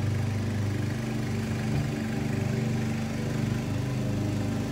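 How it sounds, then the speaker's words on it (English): A neighbour's lawn mower drones steadily in a nearby yard, a low, even engine hum running without a break throughout and carrying faintly. "I wish they would quit mowing their grass."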